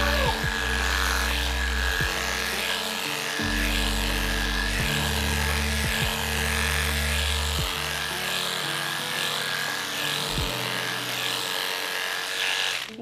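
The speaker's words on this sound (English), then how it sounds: "I'm gonna go in and I'm going to trim the top down." Electric clippers trimming the top of a doodle dog's coat in grooming, a steady close buzzing hum running continuously throughout with faint rubbing and small shifts in pitch as the blades move.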